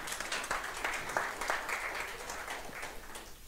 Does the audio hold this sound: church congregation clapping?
yes